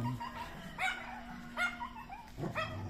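A few sharp dog barks and yips a second or so apart, fairly close, over a steady background hum.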